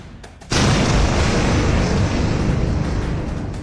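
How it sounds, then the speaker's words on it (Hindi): A sudden loud boom at an air base, Nur Khan base in Pakistan, after half a second of quieter sound, followed by a sustained roaring rumble that stays loud to the end with no speech. "नूर खान बेस पर धमाका"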